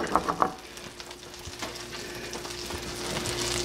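Butter sizzles gently in a pan, a soft continuous hiss with a few light clinks at the start, growing slightly fuller toward the end, no talking.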